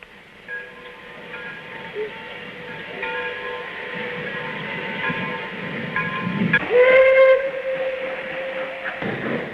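A train arriving from Lo Wu on the Hong Kong border with China in 1958 rumbles steadily with wheel and carriage noise, then a loud steam whistle sounds near the end over the running train.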